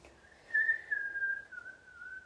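A single sustained breath whistle during a breathing exercise, a clear steady tone that wavers slightly and drifts lower in pitch over about two seconds, close and alone.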